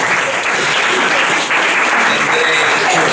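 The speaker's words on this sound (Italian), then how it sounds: "Io farei un applauso a Giancarlo," Sustained audience applause fills a talk show about Vittorio De Sica, a dense, steady wash of clapping from a crowd, loud and close throughout with no pauses.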